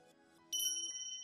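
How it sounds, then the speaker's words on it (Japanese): A smartphone suddenly rings with a clear, bright electronic ding-like tone that sustains faintly after it begins, sounding soft and somewhat distant in a quiet room with no speech. "2時間後、私のスマホが鳴った。"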